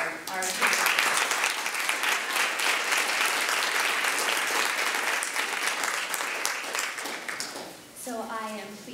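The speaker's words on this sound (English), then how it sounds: "May I ask for another round of applause for our" Sustained audience applause at a policy briefing, loud and dense for several seconds before fading, with a voice starting to speak as the clapping dies out at the end.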